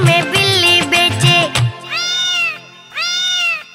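Two drawn-out, cartoonish cat meows ring out clearly as a sound effect in a Hindi children's rhyme about a toy seller, following a burst of sung music.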